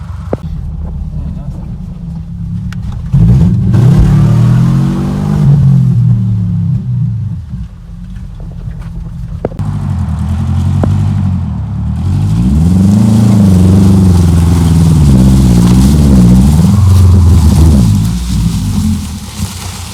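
A Subaru Impreza fitted with a winch revs hard while driving off-road, its engine climbing and falling in repeated loud surges. Someone talks over the noise at times.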